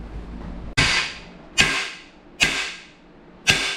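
Big sledgehammer tapping an engine part on a Jeep stroker engine build to seat an O-ring, four sharp separate metallic strikes roughly a second apart, each ringing briefly before fading, close and loud with no talk.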